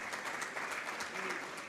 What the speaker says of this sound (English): A louder hand of applause